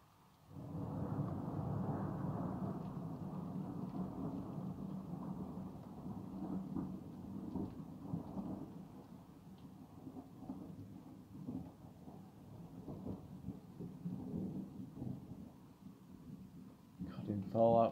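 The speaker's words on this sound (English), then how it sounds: "It's obviously cold up there because there's a bit of hail mixed in." Steady heavy rain mixed with hail and a long rolling rumble of thunder, a dense continuous wash of sound that eases slightly before rising again at the end.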